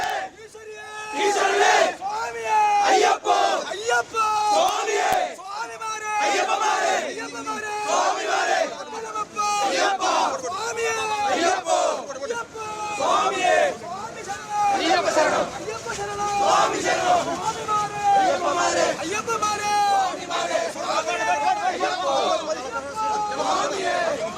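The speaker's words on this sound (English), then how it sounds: "In Thiruvananthapuram, the BJP is holding a protest while chaos continues in Sabarimala." Large crowd of protesters at the Sabarimala protest shouting and chanting together, loud and continuous, rhythmic bursts of massed voices rising and falling throughout.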